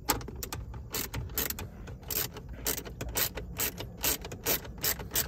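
Screws being driven into a Jeep dashboard during an 8.4-inch Uconnect upgrade make a close, rhythmic run of quick ratcheting clicks, steady and repeated with brief pauses.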